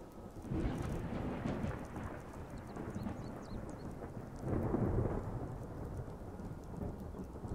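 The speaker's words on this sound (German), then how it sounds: "Es regnet." Steady rain and rolling thunder in the Skyrim video game, a constant hiss of rainfall with low rumbling thunder swelling twice, heard alone without talk.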